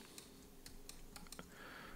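Keyboard shortcut keys pressed on a computer while laying out a page in InDesign: a handful of light, close, separate clicks in an irregular rhythm over a quiet room hum.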